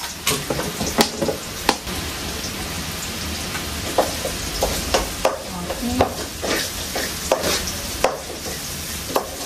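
Curry leaves crackle and sizzle in hot oil, a steady frying hiss broken by sharp pops and spatters, close and with no talk.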